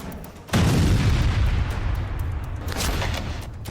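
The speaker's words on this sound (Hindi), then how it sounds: "बोट पर बम से स्ट्राइक के बाद जोरदार धमाका हुआ।" A powerful explosion from a bomb strike on a Venezuelan boat at sea, a sudden loud blast followed by a sustained roaring rumble with further bursts, with no talk.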